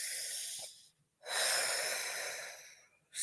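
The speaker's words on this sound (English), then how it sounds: "let's all take a deep breath in." A group of people at a school morning announcement breathes in deeply together, a long airy inhale followed after a short pause by another, close and fairly loud with no talking.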